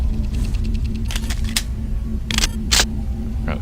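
Security camera noise in the video game System Shock 2: a few sharp mechanical clicks and whirring bursts over a steady low hum, with a brief faint chirp at the end.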